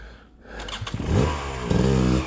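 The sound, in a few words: motorcycle engine starting and revving as throttle is pulled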